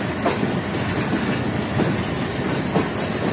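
Train wheels clickety-clack steadily as a passenger train on the Shah Hussain Express route rolls toward a platform, rhythmic rail joints heard from aboard over a constant rumble.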